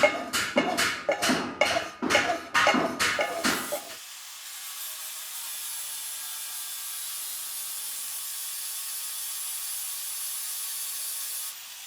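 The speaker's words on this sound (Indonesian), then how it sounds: "kita amplas pakai amplas itu" A gamelan metal bar is rubbed with sandpaper in about eight quick, rhythmic back-and-forth strokes, close and clear, then the scraping stops and only a faint steady hiss remains.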